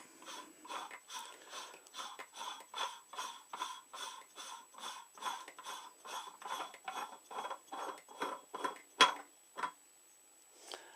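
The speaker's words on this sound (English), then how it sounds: "Now you can get hold of this disc here and unscrew it, and just keep unscrewing it." The burr disc of a Rancilio coffee grinder being unscrewed by hand, a close series of about twenty regular ratcheting clicks and creaks in a steady rhythm, with one sharper click near the end before it stops.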